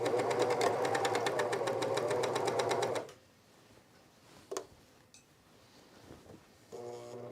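A sewing machine stitches fabric with a fast, even mechanical clatter for about three seconds, then stops. A few faint clicks and knocks follow, and at the end a short burst of uneven, stuttering running suggests a fault.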